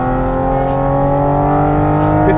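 A Porsche Cayman GT4 RS with a GT3 engine holds a loud, sustained engine note. Its strong, steady harmonic drone sits close and dominant, with a slight lift near the end.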